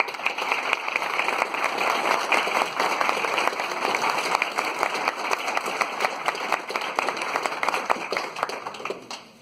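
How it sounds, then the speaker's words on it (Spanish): Audience applause greets an economist arriving to speak at a talk on technology, robotics and the end of work, a dense, steady clapping from a sizable crowd lasting several seconds before fading. "¿Les parece que recibamos a la economista con un fuerte aplauso, por favor?"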